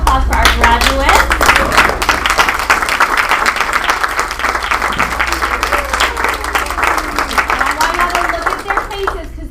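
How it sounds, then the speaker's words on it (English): A large audience at a team meeting bursts into sustained, loud applause for graduates, dense clapping holding steady throughout with a few cheers mixed in before it slowly thins. "give it a round of applause for our graduates"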